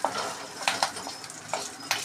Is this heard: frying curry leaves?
yes